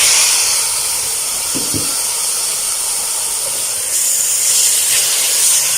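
Boneless chicken pieces drop into a simmering pot of hot and sour soup with carrots and capsicum, giving two brief soft thumps over a steady steamy hiss, close and unvoiced.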